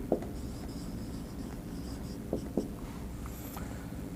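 Chalk or marker scratches faintly across a board during a maths lecture, with a few sharp taps at irregular intervals over a quiet background hum.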